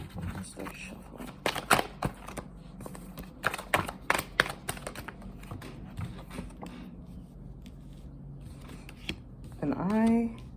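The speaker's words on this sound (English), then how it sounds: "Let's start shuffling." Tarot card deck being shuffled by hand, a run of quick crisp riffling and tapping card sounds in bursts, close and fairly quiet, ending with a short voice.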